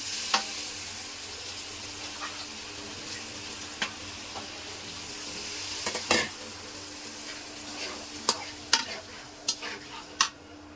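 Shing fish frying in a pan and being stirred, a steady soft sizzle with sharp scraping clicks of the utensil against the pan that grow more frequent toward the end.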